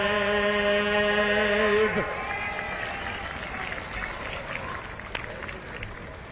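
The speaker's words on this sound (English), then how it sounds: "let's give a nice round of applause, Dave Hansen" Crowd applause at an outdoor truck and tractor pull in Sandwich, Illinois, rises as a held sung note ends and continues as a steady, fairly distant wash of clapping.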